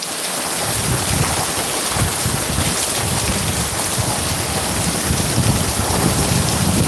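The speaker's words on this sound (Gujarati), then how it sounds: "વીજળી એક ધારી ચાલુ છે એટલે વરસાદ લોંગ ટાઈમ સુધી પડે એવી શક્યતા છે" Heavy rain pours steadily during a thunderstorm, a loud dense hiss with rumbling low gusts and wind buffeting throughout, no voices.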